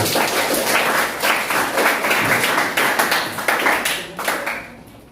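A classroom of students claps together for everyone in an Indonesian social studies lesson, loud dense applause with close individual claps, continuous and fading slightly toward the end.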